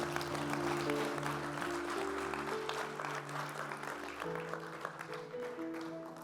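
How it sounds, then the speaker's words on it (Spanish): A church congregation bursts into loud, sustained applause, dense clapping holding steady for several seconds with musical tones sounding beneath it. "Dale un aplauso a Jesús bien fuerte."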